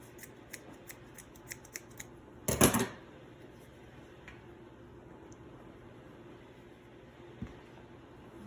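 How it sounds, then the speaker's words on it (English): Scissors snip through a craft hat, cutting off its bottom half: a few light clicks of the blades, then one loud close crunching cut, followed by quiet rustling. "So to put this on the hat, we're just going to have to cut the bottom half off."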